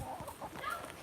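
A rooster in the video game Water Simulator gives short, close clucks in a quick, uneven burst over a dense backdrop of game sound.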